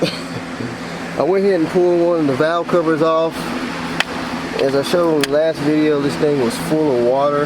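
An electric fan runs in a hot workshop in the 90s °F beside a truck-engine-swapped V6 MerCruiser ski boat, a steady whirring hum underneath someone talking continuously.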